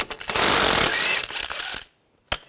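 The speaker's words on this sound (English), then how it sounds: "We're going to take this bolt out. Use a 15mm socket." A 15mm socket wrench works a bolt out of the steering knuckle on a 2013-2019 Ford Escape, producing a dense burst of metallic ratcheting and clattering. The noise stops suddenly and is followed by one short, sharp knock.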